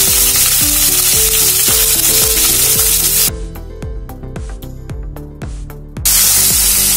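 Onion and tomato fry in a pan for a potato masala dosa filling, a loud continuous sizzle broken by a rhythmic series of scraping stirs, easing briefly before surging back.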